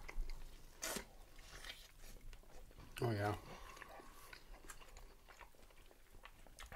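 Crunchy chicken wings dipped in blue cheese being bitten and chewed, a crisp crunch standing out briefly among quieter chewing, with someone speaking a few words alongside.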